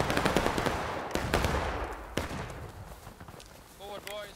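Musket volleys and scattered shots crack out during an infantry advance in the Civil War game War of Rights, several sharp reports in the first two seconds, then fainter fire as voices call out in the background.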